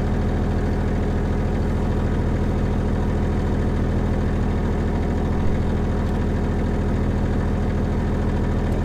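A McRae Enduro rally car idles steadily at the start of a rally stage, its heavy, low engine note constant and close throughout with slight vibration and no talking.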